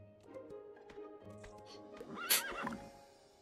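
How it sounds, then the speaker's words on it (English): A horse in the video game Starsand Island gives a loud, shrill whinny over soft clip-clopping hooves and a low background hum, heard close. "That is one very noisy horse."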